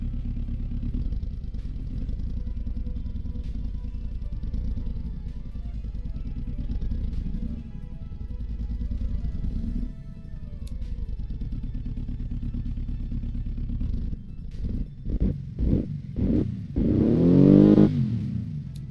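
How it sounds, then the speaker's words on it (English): A Boxer 4 engine idles in the Automation car game with a steady low, lumpy rumble, then gives a few short throttle blips that build into a louder rev near the end; no one speaks. "I love the idling noise of the Boxer 4. Sounds like a Harley Davidson at idle."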